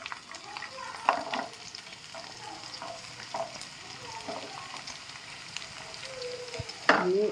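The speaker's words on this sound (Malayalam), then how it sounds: "ഇനി ഇതിലേക്ക് വലിയ ഉള്ളി ഇടുകയാണ്." Onions drop into a pan where ginger and garlic have been frying, giving a soft continuous sizzle with a few scraping stirs and a sharper clink near the end, quiet and close.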